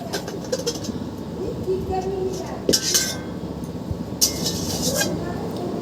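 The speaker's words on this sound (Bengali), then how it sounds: "আমার রান্না হয়ে গেছে, এবার ঢেলে নিব কড়াই থেকে" Hilsa fish curry with potato and eggplant being tipped out of a hot wok, with metal clinks and scraping of utensil against pan, a couple of sharper clanks standing out over steady kitchen background.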